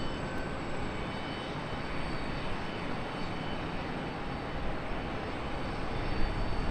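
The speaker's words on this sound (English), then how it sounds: "Little E175 touching down." An Embraer E175 regional jet touches down on a runway a little over a mile off, heard as a distant, even wash of engine noise that swells slightly toward the end, with no one talking.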